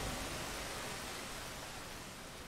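Rain falls steadily in the game Rain World, a dense, even hiss of broadband noise with no breaks, fairly loud and constant for the whole stretch, with no voices present.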